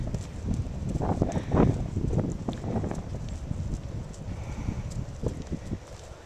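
Horse trotting in a riding arena during a dressage-style lesson, hooves clip-clopping in a steady two-beat rhythm, close and moderately loud, with faint wind and a few soft sounds around it.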